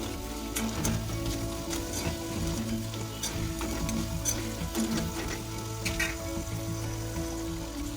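Potatoes fry in a pan over low to medium flame, a constant close sizzle broken by occasional crackles and stirring scrapes, with no talk.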